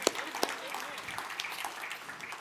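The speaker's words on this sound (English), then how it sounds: "go ahead, you can clap." A church congregation at Northstar claps together during a Sunday service, a soft, steady patter of many hands with a couple of sharper claps near the start, heard at a distance and fairly faint.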